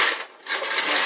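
Metal measuring spoons clinking together in a short, bright jangle, close and fairly loud, lasting about a second.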